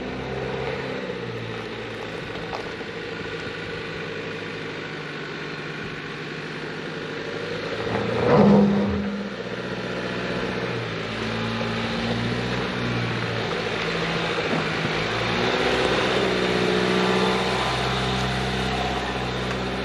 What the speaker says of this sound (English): Look at that RAV4 go.